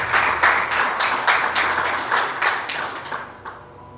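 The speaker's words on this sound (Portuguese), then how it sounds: "louvando a Deus com as palmas, bem forte para Jesus" A church congregation clapping loudly in praise, a steady rhythmic beat of many hands in unison at a brisk pace, full and close, gradually fading out toward the end.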